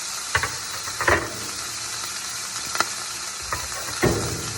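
Steak searing in a hot pan, a steady close sizzle with a few sharper spatters and crackles punctuating it, no talking.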